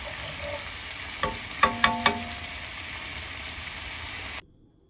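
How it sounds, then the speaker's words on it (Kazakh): Butter melting in a pan for katyama flatbread, a steady soft sizzle and hiss running throughout with a few sharp clicks or taps in the middle, close and moderately quiet, ending abruptly. "Қаймақтай сармайды ерітіп аламыз."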